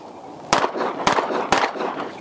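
An airsoft gun firing three sharp shots at roughly half-second intervals, loud and close, over a steady background hiss.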